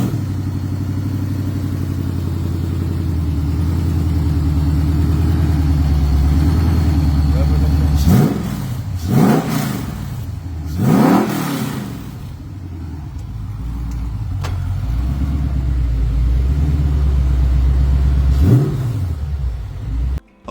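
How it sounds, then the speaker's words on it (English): A 1966 Ford GT40 kit car replica engine idles with a steady, throaty rumble, then gets blipped through several quick revs that rise and fall before settling back to idle. "Here's a video of the GT40. We're going to crank it up."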